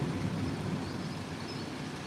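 Steady, dense hiss of rain falling outdoors by a canal seen from a balcony, a constant wash of sound with no voices.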